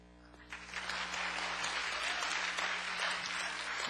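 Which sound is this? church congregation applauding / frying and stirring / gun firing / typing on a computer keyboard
church congregation applauding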